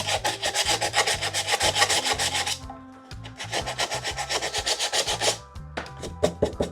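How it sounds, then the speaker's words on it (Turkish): Rhythmic back-and-forth rasping of sandpaper on an old wooden shelf, fast regular strokes in two bursts separated by a brief pause, close up. "Şuralarını zımparalamam zor olacak ama şu görünür yerlerini zımparalayacağım."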